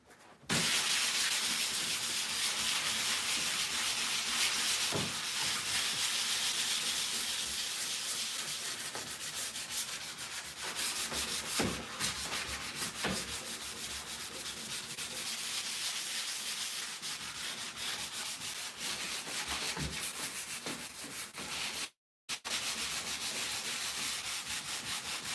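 Continuous sanding with fine 220-grit sandpaper, a steady rough rubbing hiss that carries on for a long stretch with brief pauses.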